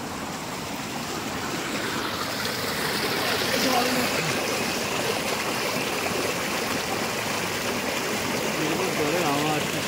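Stream water flowing steadily through an orange garden in Pelling, Sikkim, a continuous close rushing and gurgling wash that holds at an even level for the whole stretch.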